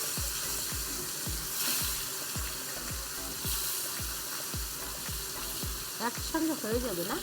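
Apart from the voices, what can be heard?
fish frying in hot oil in a pan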